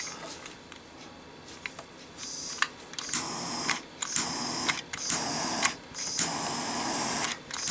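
A cigar lighter clicking on repeatedly, sharp mechanical snaps followed by short bursts of hissing flame, close and fairly quiet, with no talking.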